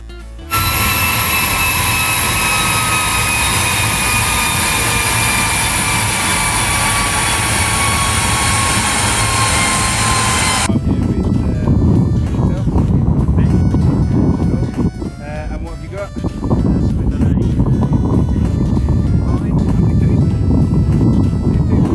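An Audi TT engine running on a dyno, at first a loud steady high-revving whine with rising tones, then cutting to a rougher broadband rumble with a brief dip before resuming, close and loud.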